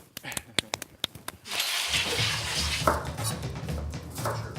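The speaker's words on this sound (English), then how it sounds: "I think it's time to chop up some cabbage." Cabbage being chopped for sauerkraut, a quick series of sharp knife strikes on a board for about a second and a half, then a busier kitchen bed of handling and low hum.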